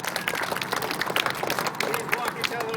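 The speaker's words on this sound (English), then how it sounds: "Let's give him a big round of applause." An audience claps and applauds, a dense patter of many hands with scattered crowd noise, steady and fairly close for a few seconds.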